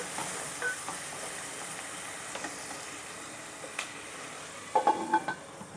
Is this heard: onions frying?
yes